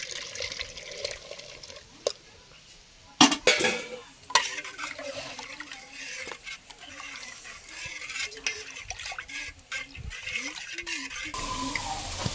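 Caramel is stirred into milk and whisked sour yogurt in a bowl for Bengali mishti doi. A spoon scrapes and clinks against the bowl with soft liquid swishing, and a few sharper knocks come partway through.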